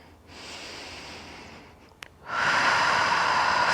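During a relaxing yoga pose, one long, deep breath is taken in through the nose, followed by a brief pause and a click. A stronger, louder exhale then rushes out close by.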